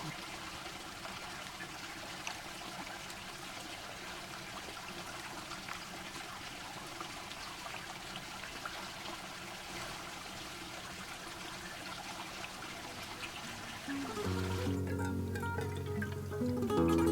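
A canyon stream in Bears Ears' Fish and Owl Canyon trickles faintly and steadily in the background, then near the end a louder, closer rush of water briefly takes over.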